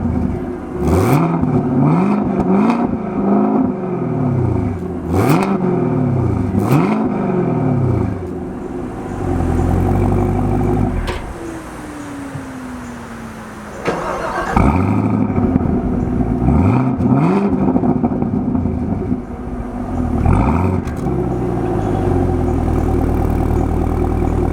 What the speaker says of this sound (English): I'm gonna hop in the car and I'm gonna rev it up a few times